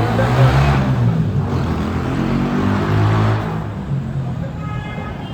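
Road traffic starting to move again, with a steady broadband rumble of several car engines nearby, slight swells as vehicles accelerate, and no talk over it.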